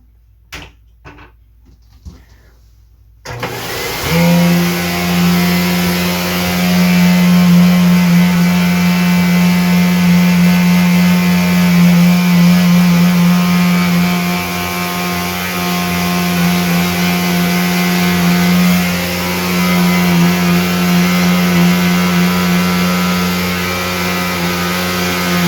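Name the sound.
Flowbee vacuum haircut clipper running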